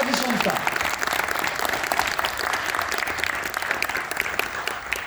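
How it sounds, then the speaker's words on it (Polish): Steady applause from an audience at a press conference for a rapid and blitz chess tournament draw in Warsaw fills the whole stretch, a dense crackle of clapping hands without pause. "Wielkie brawa dla nich."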